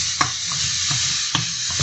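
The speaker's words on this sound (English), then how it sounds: "I hope you can still hear my voice over the sizzling of the food." Vegan breakfast frying in a pan with salt and spices, a steady close sizzle with a few sharp stir clicks and scrapes running through it, no voices.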